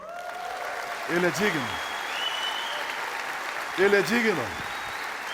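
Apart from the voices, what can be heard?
congregation applauding in church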